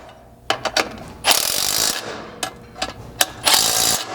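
A hand ratchet tightens 5/8 bolts while fitting a rear shock skid plate on a Ford Bronco, giving several sharp clicking bursts of pawl ratcheting at close range with short pauses between them, and no voices.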